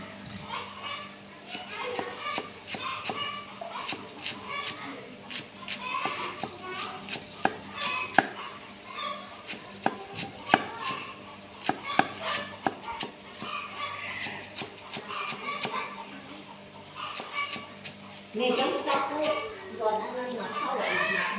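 A knife chops food on a board in a mountain-style kitchen while blood-pudding filling is made: sharp, irregular knocks repeat through the whole stretch under ongoing conversation, with a dog barking now and then.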